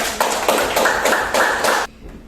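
Classroom audience applause during a lesson, a short burst of clapping in pulsing waves lasting about two seconds before cutting off to quiet room tone.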